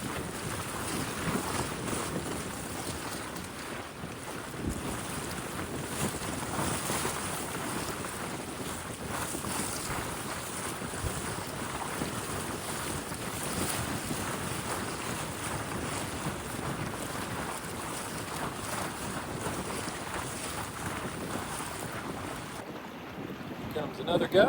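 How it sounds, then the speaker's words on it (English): Strong wind near 25 knots roars steadily against the microphone for a long stretch, with rushing water and gusts rising and falling around a small sailboat. "Here the gusts became much stronger. I would guess the wind was close to 25 knots."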